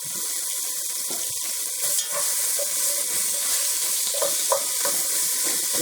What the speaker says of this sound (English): now I'm just going to take and toss my onions in here and give them just a quick saute